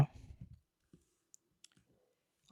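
Python code typed on a computer keyboard, heard as a handful of quiet, scattered key clicks with pauses between them, following a brief murmur of voice at the start.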